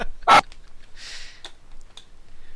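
A dog gives a single sharp, loud bark near the start, followed by faint breathing and small scattered noises.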